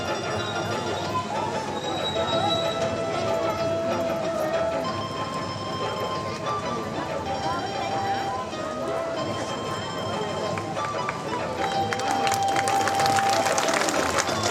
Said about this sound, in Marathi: टाळ्या वाजवू नका, या सत्काराला कृपया टाळ्या वाजवू नका